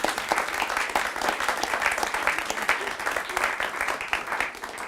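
Audience applauding at an ASU Trumpet Ensemble concert, dense, steady clapping from a crowd that holds fairly loud throughout and begins to taper off only at the very end.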